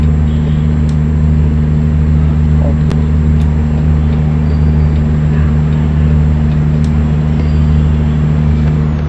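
Truck driving in the American Truck Simulator video game: a steady, loud low engine drone with a constant hum runs throughout while overtaking another truck, with a few faint clicks and no talk.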